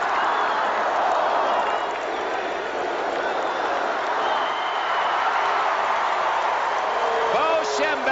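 A large football stadium crowd at the Rose Bowl in Pasadena roars steadily through the final seconds of the 1981 Michigan vs Washington game, a dense, continuous wall of cheering and shouting under a commentator's voice.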